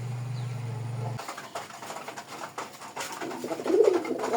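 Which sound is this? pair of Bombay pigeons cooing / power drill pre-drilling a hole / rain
pair of Bombay pigeons cooing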